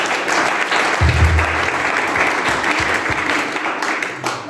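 Audience applause with cheering from a live crowd, dense and loud clapping filling the whole stretch without break, some low voices mixed in.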